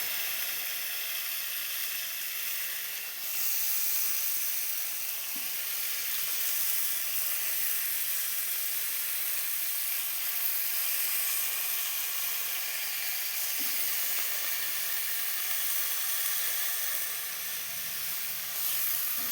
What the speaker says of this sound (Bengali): এবার আমি টমেটোগুলো দিয়ে দেবো। টমেটো আর কাঁচা লঙ্কা দিয়ে দেবো।